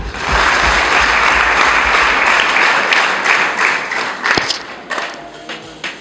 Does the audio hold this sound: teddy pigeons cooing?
no